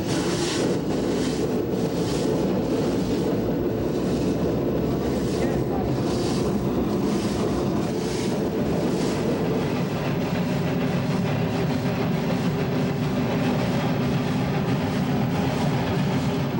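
A rotary snow plow train on the Cumbres & Toltec railroad runs at a slow, steady speed, giving a dense, constant roar and rumble with gusty wind-like noise and no break in the sound.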